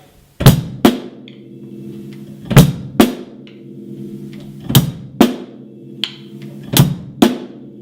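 Drum kit working through part of a simple beat, with the and of 3 and the 4 struck together in a steady, evenly spaced repeating pattern; each loud, close hit rings briefly over a low sustained tone, and nobody speaks.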